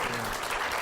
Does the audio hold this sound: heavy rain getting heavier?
no